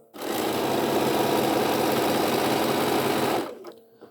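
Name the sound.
sewing machine stitching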